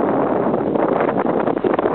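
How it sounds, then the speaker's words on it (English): Strong wind buffets the microphone in a continuous low rumble with gusty swells, in rainy weather at Carter Bar on the English–Scottish border. "It's very, very rainy, very, very windy."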